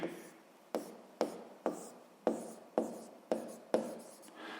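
Pen writing a math exercise answer on paper, a series of about eight short scratchy strokes in a steady rhythm, each a quick rasp that fades before the next, quiet and close with no talking.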